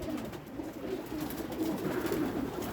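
A Malwai pigeon coos in a continuous low, rolling murmur nearby, against faint background noise.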